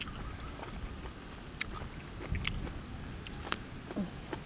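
Crunchy fried squid is bitten and chewed outdoors beside a waterfall in cool weather, giving faint, scattered crisp crunches and soft chewing under a steady hiss of background noise, without talk.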